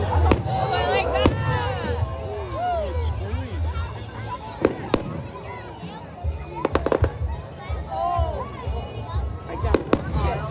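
Fireworks at a Red, White and Boom celebration, sharp booms and crackling bursts with whistling rising shells, loud and repeated, while people nearby talk and react.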